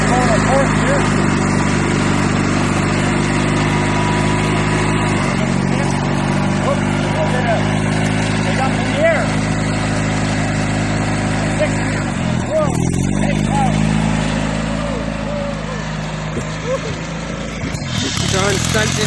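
A Craftsman 19.5 hp garden tractor engine runs in fourth gear, a loud, steady, close drone with a rough mechanical rattle that dips briefly partway through before carrying on, with a voice talking over it.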